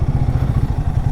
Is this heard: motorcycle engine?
yes